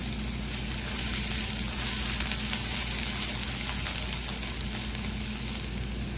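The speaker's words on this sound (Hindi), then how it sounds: "आलू को अच्छा हमने 2 मिनट तक इसमें अच्छे से फ्राई कर लिया है, भून लिया है" Diced potatoes frying in oil in a pan for sabudana khichdi give a loud, steady, dense sizzle with faint stirring, close and continuous, with no talk.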